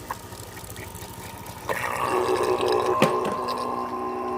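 Water begins gushing steadily from a portable battery-powered crop sprayer after a quiet mechanical motor hum, a continuous close splashing flow with a brief sharp knock near the end.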